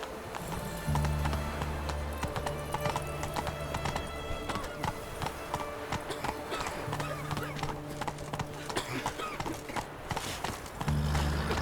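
Horse hooves clip-clopping in The Witcher 3 game, a brisk steady stream of close hoofbeats running throughout, with a low hum and brief spoken words in places.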